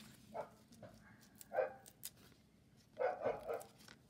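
Several dog barks ring out in short bursts, a few single yaps then a quick cluster near the end, moderately distant over a quiet background.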